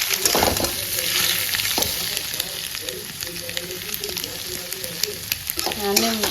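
Eggs and potato fry with spices in a pan, a steady close sizzle broken by scraping and stirring strokes, with a faint voice briefly audible near the end.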